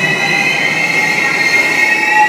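A metro train gives off a loud, steady, high-pitched wheel squeal over a continuous rolling hum, close by and with no voices.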